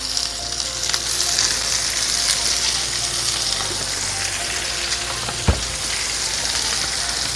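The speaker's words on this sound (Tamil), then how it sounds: "இப்படி மீனை அடுக்கி வச்சுட்டு இனி கொஞ்சம் கூட எண்ணெய் இப்படி சைடில் இப்படி ஊற்றி விடுறோம்." King fish slices frying in oil in a pan, a steady close sizzle and crackle running throughout with one sharp tap near the end.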